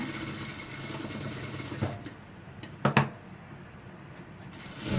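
A sewing machine stitches elastic onto thick school uniform pants, giving a mechanical whirring and ratcheting that breaks into short clicks and bursts, with a quieter stretch between.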